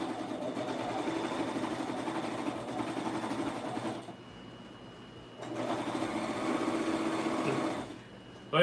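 A sewing machine stitches lace pockets onto pants, a close, steady rapid whirr in two runs of about four and three seconds separated by a quiet pause.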